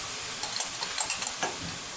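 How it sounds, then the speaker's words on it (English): Minced garlic stirred into a hot pan for chicken tacos, a short burst of gentle sizzling with a few soft scraping strokes, close and fairly quiet. "Are you ready to stir? Yeah. Okay, start stirring."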